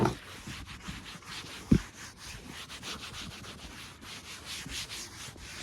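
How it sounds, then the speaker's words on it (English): Boat seats are scrubbed down with cleaner, a continuous rhythmic brushing and rubbing at close range with one sharp knock partway through, no talking. "And we're just gonna scrub these seats down like this."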